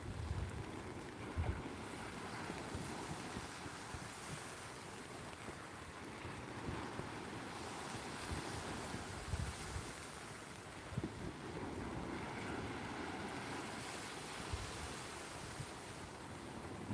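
Ocean surf breaks on a beach at a shore-fishing spot as the tide rises, a continuous rumbling roar of waves with steady wind buffeting the microphone throughout and no talking.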